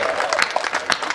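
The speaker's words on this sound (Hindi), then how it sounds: "अरे तो बेटियां तुम्हें एक बार ताली तो बजा दे" Audience members at a humorous poetry gathering clap in a brief, scattered burst of applause, a handful of distinct sharp claps over about a second, mixed with crowd murmur.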